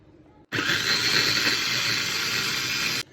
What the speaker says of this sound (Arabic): هفرم البصل في الكبة